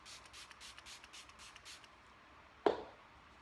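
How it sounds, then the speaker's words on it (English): Milani makeup setting spray pumped toward the face: a series of soft, fine misting hisses close by and fairly quiet, followed by a single sharper, louder spritz near the end. "Milani setting spray."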